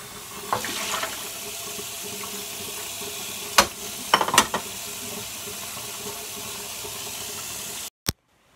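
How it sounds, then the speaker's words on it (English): Tap water runs steadily into a kitchen sink during dishwashing, a continuous rushing stream with a few sharper clatters of dishes partway through, ending abruptly near the close. "I finished doing the dishes"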